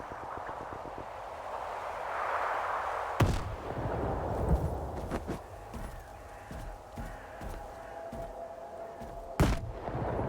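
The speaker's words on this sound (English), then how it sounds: "Those explosions are nuts, dude." Explosions and artillery fire in the video game STALKER 2, several sharp booming blasts standing out over a rumbling background of distant gunfire, fairly loud with no speech.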